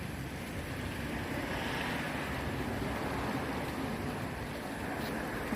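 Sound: waterfall

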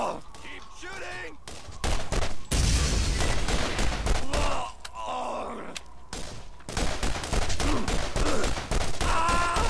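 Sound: gunfire in video game Borderlands

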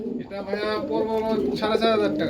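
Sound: pigeons cooing

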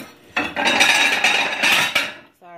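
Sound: plate clattering on pot used as lid

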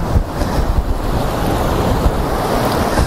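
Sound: stormy sea waves

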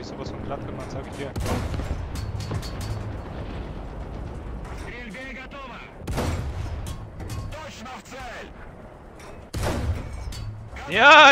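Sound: tank gunfire in War Thunder video game

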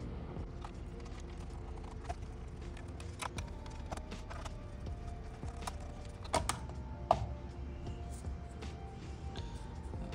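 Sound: removing stock CPU cooler from HP Omen 30L PC

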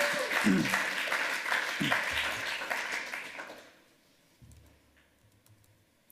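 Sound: audience applause after a talk

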